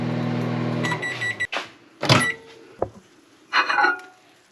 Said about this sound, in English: You just need to microwave this for 30 seconds or less.